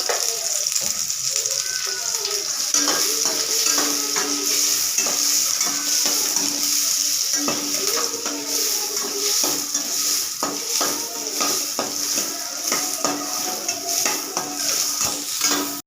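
Onion, ginger and garlic frying in oil in a pan for mutton curry, a steady loud sizzle with frequent stirring scrapes and utensil clinks against the metal, no talking.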